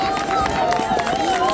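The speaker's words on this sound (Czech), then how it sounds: "Poprosil bych o potlesk." Outdoor audience at a Czech carnival festival applauds in a dense, steady patter of clapping, mixed with crowd murmur and a sustained tone in the background.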